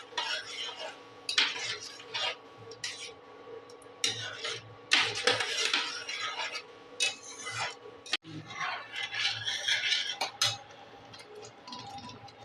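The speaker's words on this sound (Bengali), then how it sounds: "অনবরত আমি এই টমেটো সসটা বানানোর জন্য এটাকে আমি নাড়তে থাকবো, না হলে নিচে লেগে যেতে পারে।" Spoon stirring tomato sauce made without onion or garlic in a pan, repeated scraping and clinking strokes in an irregular rhythm, close and moderately loud, with a voice talking over parts of it.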